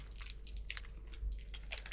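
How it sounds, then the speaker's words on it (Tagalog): Crunchy bites into a Lindt Dubai-style chocolate bar made in Switzerland, with a filling that crackles inside. Several sharp, close crunches and chewing sounds come in quick succession, with no talking. "May malutong sa loob. Ito yung famous na Dubai chocolate na sinasabi nila."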